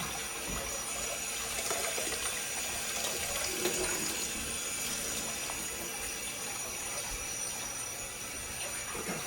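Tap water runs steadily into a sink while sorrel is rinsed, a continuous close splashing rush with no pauses and faint clatter underneath.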